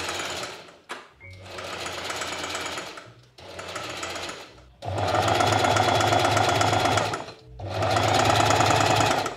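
A sewing machine stitches a blouse seam in steady, fast whirring runs separated by brief pauses, close and fairly loud, with no talking.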